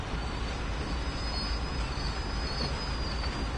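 A freight train in the Train Sim World 2 video game rumbles along with a steady low roar and a faint high wheel squeal running through the whole stretch, loud and unbroken, with no talking.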